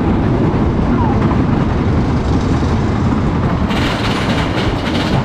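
A loud, continuous rumble of a train on Troy, a GCI wooden roller coaster at Toverland, rolling along its track, with rattling, clattering noise and a brief voice underneath.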